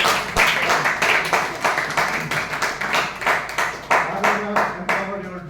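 Audience applause at a Toastmasters club meeting: many hands clapping steadily and fairly close, a dense, even patter sustained throughout with no pause.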